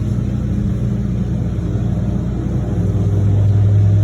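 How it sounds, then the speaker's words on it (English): A steady lawn mower engine drone runs close by throughout, a continuous low motor hum with a slight rise toward the end and no voices. "My neighbor's getting her lawn mowed"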